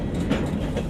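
A crowded freight train moving along rails with migrants riding on top gives a steady, close rumble and rattle of wheels and wagons, with no talk.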